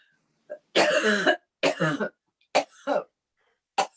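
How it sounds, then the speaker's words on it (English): A fit of coughing nearby during a Vermont Senate committee meeting: several harsh, rasping coughs in quick succession, then two shorter ones and a final brief cough, with quiet pauses between. "while you're coughing here"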